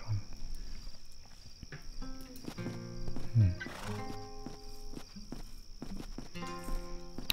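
A horse in the adventure game Satinavs Ketten lets out a tonal whinny and snorts by a riverbank campfire, set against a quiet ambient background with faint insect chirping.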